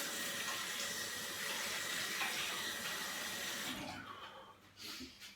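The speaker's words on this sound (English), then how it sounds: "Oh, I'm going to wash my knife again." Kitchen tap running into a sink while a knife is rinsed, a steady close hiss and splash of water that tapers off and stops near the end.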